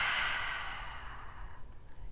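A single slow, audible exhale during a core exercise for back pain, loud at first and trailing off softly over about two seconds.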